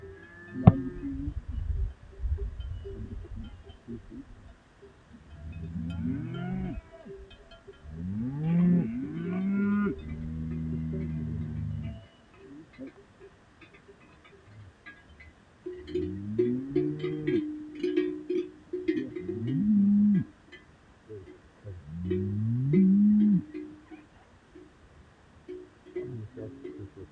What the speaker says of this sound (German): Und dann die Kühe.